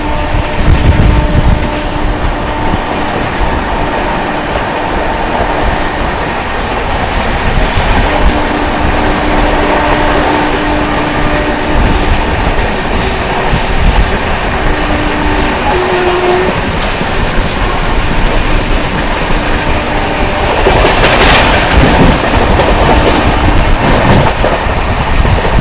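The 12450 Goa Sampark Kranti Express running on rails between Sawai Madhopur and Kota Junction, a loud continuous rumble and clatter of wheels with creaking and squealing of the carriages, heard from inside the train.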